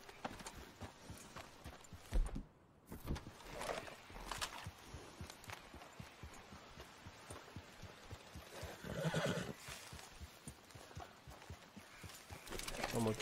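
Horse hooves clip-clop steadily through Red Dead Redemption 2 game audio, with whinnies and other game sounds mixed in and a rhythmic hoof pattern running under a speaking voice.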